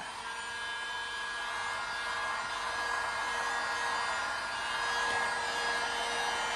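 A heat gun blows steadily while warming vinyl wrap film on a G35 car, a continuous airy hiss with a faint tonal whine that holds at even loudness throughout, with no talking.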